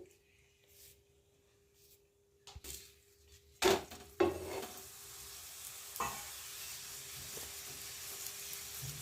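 A methi aloo paratha fries in ghee on a pan, a soft steady sizzle that builds after a few sharp clatters and presses of a spatula, with faint background noise and no talk.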